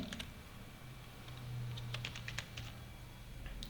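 Someone types on a computer keyboard while drafting in AutoCAD, a few quick, close key clicks in small bursts over a quiet room hum, with no talk.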